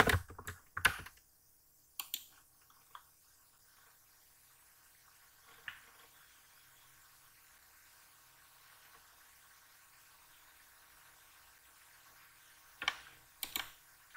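A few isolated keystrokes on a computer keyboard, typed while setting up an ASP.NET library management menu, come as short quiet taps near the start, around two and six seconds, and a small cluster near the end, with near-silence between.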